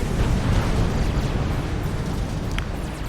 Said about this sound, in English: All that cruiser fire.